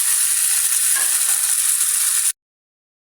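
A tomato mixture hits a hot pan with a loud, bright, continuous sizzle and crackle, close up, that cuts off abruptly after about two seconds into silence.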